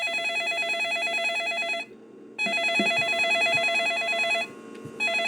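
A telephone in a video game rings with a bright electronic trill, two sustained rings separated by a brief gap, loud and clear with faint background bumps.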